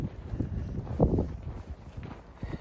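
Wind blowing outdoors during a snowstorm, a steady low rumbling gust with microphone buffeting that swells and fades across the clip, without speech.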